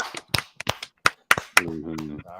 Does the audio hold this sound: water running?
no